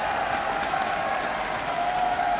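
Steady applause and crowd noise fill a Rocket League esports arena, a dense continuous roar of clapping with a few cheers, loud and even throughout.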